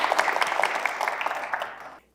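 A short, brisk burst of audience clapping welcomes a speaker at a public lecture on apartment-building disputes, fading out abruptly after about two seconds.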